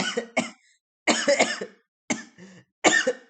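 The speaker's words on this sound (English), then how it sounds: "Sorry about my cough" Several harsh, close coughs come in short bursts, separated by brief silences, with no talking.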